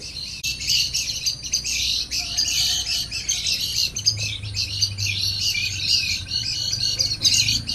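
Fledgling birds just out of the nest chirp in a dense, steady chorus of high tweets, with a low hum running underneath and no talking.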